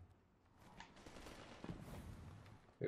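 Gunfire in the Destiny 2 video game, a fast, muffled burst of shots that runs for a few seconds at low level, with no talk over it.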